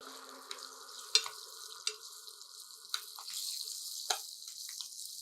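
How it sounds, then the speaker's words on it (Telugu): Soft crackling sizzle of green chillies frying in oil in a pan, with a few sharp pops and clinks, quiet and close. "కొద్దిగా పచ్చిమిర్చి వేగనివ్వండి"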